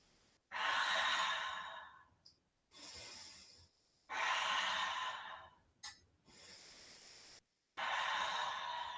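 Deep, audible breaths during a yoga studio practice, four long airy exhalations alternating with quieter gaps, close and steady in rhythm, with no speech.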